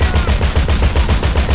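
Rapid automatic gunfire in GTA Online rattles out in a steady, unbroken stream of loud, close shots with no pauses.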